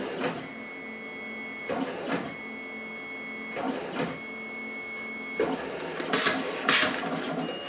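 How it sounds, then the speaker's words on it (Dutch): A photo printer unit prints an Instagram photo, with steady mechanical whirring broken by repeated rhythmic feed passes and a few sharper clicks and bursts toward the end, fairly quiet. "Als je hem heeft gevonden, zet hij hem naar de printerunit en wordt hij uitgeprint en wel afgeleverd."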